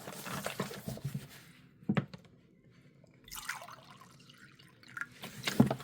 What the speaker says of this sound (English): So I'm going to add some water to my cup.